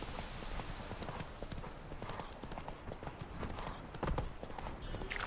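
A horse's hooves clip-clop in a steady trotting rhythm in The Witcher 3 video game, close and continuous, with an occasional louder stomp and faint background game ambience.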